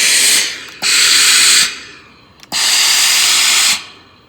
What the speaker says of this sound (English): I think you can see how much steam you're getting out of this.